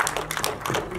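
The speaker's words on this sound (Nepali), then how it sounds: "म ताली बजाएर तपाईँलाई स्वागत गर्न चाहन्छु" Quick hand claps welcoming guests at a media gathering, a brisk burst of several close claps over about a second.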